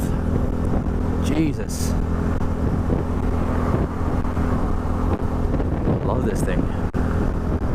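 A Yamaha sport motorcycle, an R1 or XSR 900, being ridden: a steady engine drone lies under loud, constant wind rush on the microphone, and the rider speaks briefly over it.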